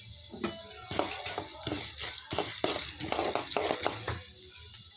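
Garlic, onion, dried red chilies, chana dal and urad dal sautéed in a pan for peranda chutney, with a steady soft sizzle under repeated scraping and clinking stir strokes.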